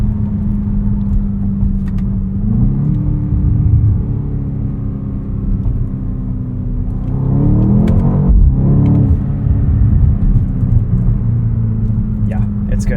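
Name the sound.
2024 BMW X5 M engine driving in Sport Plus mode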